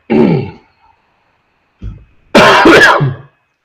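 A close, sharp throat clearing, then a pause, a short grunt, and a harsher rasping cough-and-clear at the end.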